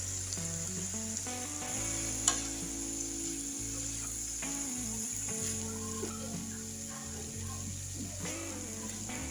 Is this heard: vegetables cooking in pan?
yes